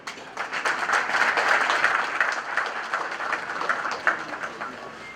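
Steady applause from an audience at an art exhibition opening, a dense wash of many hands clapping that stays fairly loud and even, with a few sharper claps standing out near the end.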